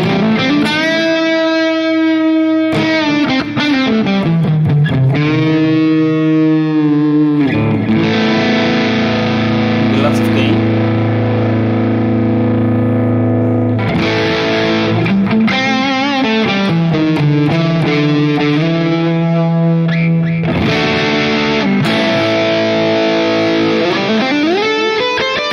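Electric guitar played through a cranked high-gain amp model on a Headrush Prime, heavily distorted, with sustained chords and riffs ringing out loud and continuous, no talking.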